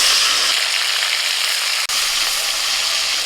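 Chopped tomato hitting hot mustard oil tempered with cardamom, cinnamon and cloves for a green jackfruit curry: a loud, close, continuous hissing sizzle with one very brief dropout midway.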